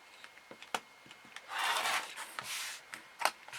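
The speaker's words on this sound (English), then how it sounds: "we're just going to simply use the rotary cutter and cut it to make sure that our width is right" A rotary cutter trims quilt fabric for a block: light taps and clicks as the ruler and blade are set, then a soft, hissing roll of the blade through the cloth, up close, with no talking.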